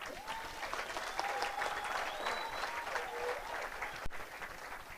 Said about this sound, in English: I think she deserves a better clap, eh?